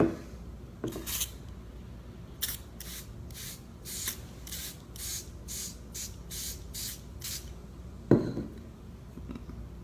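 A burst of short spray hisses from a scent spray bottle of fox urine, about ten quick pumps in a steady rhythm, close by, with a faint clink near the end.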